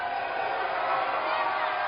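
A wrestling arena crowd roars in a steady, dense wash of cheering, loud and continuous without a break.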